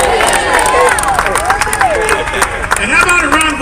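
A large crowd cheers and applauds at a Q&A event at Seascape Resort in Miramar Beach, Florida, greeting the band's manager; dense, steady clapping and shouting with whistles fill the room, with babble mixed in.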